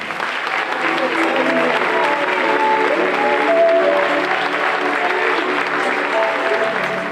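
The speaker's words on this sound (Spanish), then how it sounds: "un fuerte aplauso para ellas" A crowd applauds steadily at a charity week event, a dense sustained clapping that fills the room, with voices mixed in beneath it.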